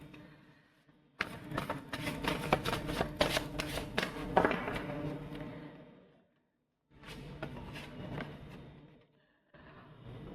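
A deck of tarot cards is shuffled by hand in quick riffling bursts, with two short pauses between rounds, close and fairly quiet.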